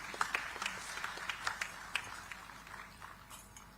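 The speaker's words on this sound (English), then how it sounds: "Let's welcome her with a huge round of applause, ladies and gentlemen." Scattered applause from an audience at a digital technology summit in Visakhapatnam, a handful of distinct claps over a soft wash that thins and fades toward the end, fairly faint and distant.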